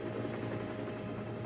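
Harold the helicopter, a toy from a wooden railway set, gives off a steady, faint, low mechanical whir that holds even throughout as he flies away.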